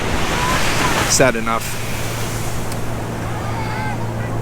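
Steady ocean surf at Waimea Beach on Oahu's North Shore, a continuous broad wash mixed with wind noise, and a person speaks briefly over it.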